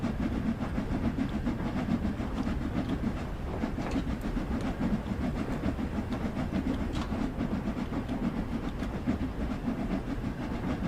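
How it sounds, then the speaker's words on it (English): A steam train runs on rails in Train Sim World 2 on the Liverpool Lime Street to Crewe line, a steady continuous rumble with rhythmic clickety-clack and hiss throughout, loud and unbroken. "Then I've got another train coming down as well."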